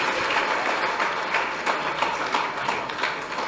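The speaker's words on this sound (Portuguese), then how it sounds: "aplauda ao Senhor em nome de Jesus" A Baptist church congregation applauds at the close of a service, a loud sustained round of clapping with distinct rhythmic hand claps pulsing through the dense wash, no talking over it.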